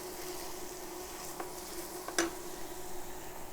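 Onions sizzle softly in a soup pot, a steady quiet hiss broken by a couple of light clinks from the pot and utensil.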